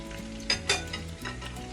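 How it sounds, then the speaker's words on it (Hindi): Onions fry in oil until brown for a home-style mutton rice pulao, giving a steady close sizzle broken by a couple of brief scraping stirs. "प्याज को अच्छी तरह फ्राई कर लेंगे, ताकि जो है ये अच्छी तरह से ब्राउन हो जाए"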